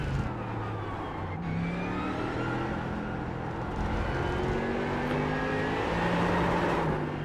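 A race car at Silverstone in the iRacing sim rolls steadily with engine drone and tire noise, its pitch rising and falling through shifts and corners, continuous and fairly loud with no talk.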